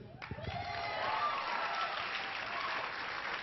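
An audience applauds at a theatre performance of Spamalot. The clapping is dense and even and builds after a brief voice at the start.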